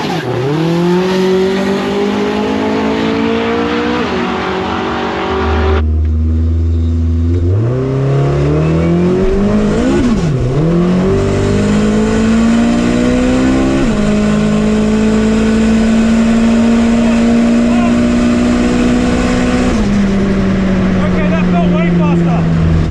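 Lexus IS200 daily driver, tuned for nine-second runs, accelerates hard on the road, its engine note climbing loud and close through several gear changes, with a brief lift and a deep bark between pulls and voices talking over it.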